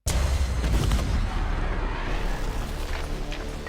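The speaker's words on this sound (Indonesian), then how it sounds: "terjadi ledakan" A loud, rumbling blast of an alien spacecraft exploding, from an animated film, fills the clip with deep booming and crackling noise that slowly tapers off, close and dense.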